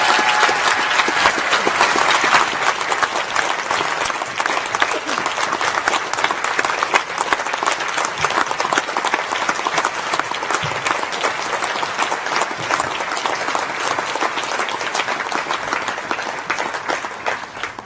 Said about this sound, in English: I would like to end my vote of thanks with a grand applause for everyone present here